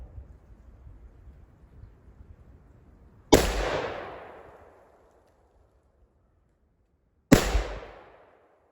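Two loud, sharp rifle shots from an MSAR STG556 fired at cans on an outdoor range, widely spaced with quiet between them, each crack followed by a long echoing decay.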